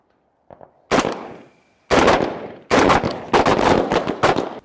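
Carbine shots ring out on an outdoor shooting range in loud, sharp reports: a faint pop, then a single shot, another, and a fast string of rounds fired in close succession.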